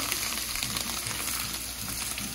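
Chinese fried rice with beef and shrimp sizzles loudly in a hot pan, a constant close crackle of frying with faint scraping of stirring throughout.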